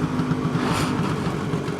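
A 1979 Vespa P200E scooter engine running on the road, a steady close buzzing drone with a slight pulse and no talk.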